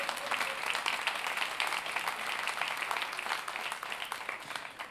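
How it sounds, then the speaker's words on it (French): An audience gives a sustained round of applause, steady dense clapping heard from a moderate distance and fairly quiet, holding evenly for about five seconds. "On veut l'applaudir, hein ?"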